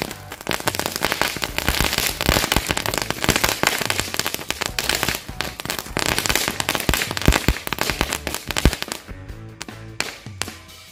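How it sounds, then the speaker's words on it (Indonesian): Rapid, dense string of firecracker bangs and crackles going off continuously, sharp pops overlapping, fading into a few scattered bursts at the end, from green-lighting firecrackers set off during Ramadan. "Ini dia merconnya, siap untuk kita nyalakan"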